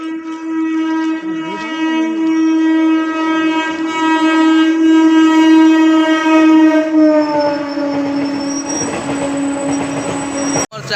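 A train runs in Chennai with a loud, sustained horn-like tone holding steady, near and dominant, sliding slightly lower toward the end before a sharp cutoff.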